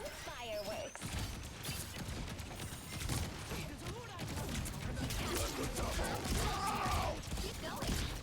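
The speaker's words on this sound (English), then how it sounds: "Time for some fireworks." Fireworks in a video game pop and crackle continuously in a dense, loud barrage that runs the whole time with hardly a break.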